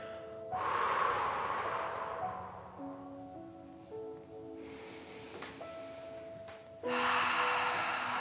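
Slow, deep yoga breaths, each a long airy inhale or exhale, with two full breaths a few seconds apart, close and soft over gentle background music.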